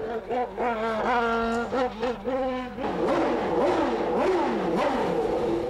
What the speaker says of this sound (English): Listen as the car's traction control battles with the snowbound track.